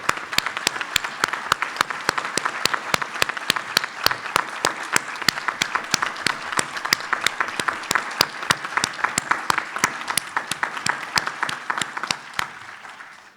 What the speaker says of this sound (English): Nice applause.